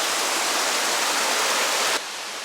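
A gushing creek runs at full flow in Great Smoky Mountains National Park, making a dense, loud rush of water that holds steady and then abruptly drops to a quieter level near the end.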